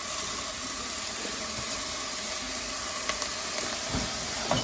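Onions sautéing in a pan for a copycat Outback onion soup, giving a steady close hissing sizzle with a few faint clicks and taps near the end.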